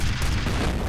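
Gunfire in the video game F.E.A.R. comes as a dense, loud burst of low booming shots packed into under a second, with no pauses between them.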